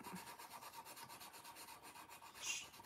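A coloured pencil lays a light layer of colour over a colouring-book drawing, giving faint, soft, close scratchy rubbing in short repeated strokes.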